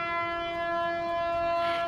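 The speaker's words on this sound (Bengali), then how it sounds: "ট্রেন আসছে" A train nears with a loud, steady horn-like tone held unbroken for about two seconds over a low rumble, with no voices.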